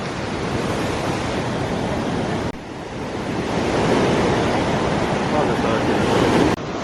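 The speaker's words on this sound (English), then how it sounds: "the powerful waves" Powerful ocean waves break and surge onto a soft sandy beach at São Tomé and Príncipe, a loud continuous roar of surf with wind buffeting the microphone and a brief dip before the wash swells again.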